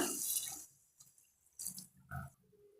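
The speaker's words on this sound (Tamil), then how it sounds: "இப்போ நாம் தண்ணி சேர்த்துடலாம்" Water is poured into a pan in a few short splashing bursts separated by quiet pauses.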